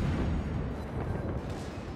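Battleship main guns fire in the World of Warships naval combat game, a heavy, low, rumbling boom that rolls on for about two seconds at moderate, somewhat distant loudness.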